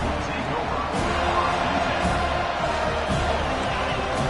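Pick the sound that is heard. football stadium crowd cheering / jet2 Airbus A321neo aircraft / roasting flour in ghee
football stadium crowd cheering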